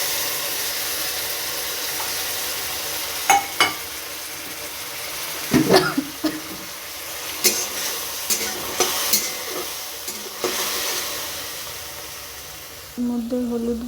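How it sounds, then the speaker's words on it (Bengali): Ginger garlic paste sizzles softly in a pan as it is sautéed, a steady frying hiss broken by repeated sharp scrapes and clinks of a spoon stirring against the pan. "5 মিনিটের মতো কষিয়ে নেব"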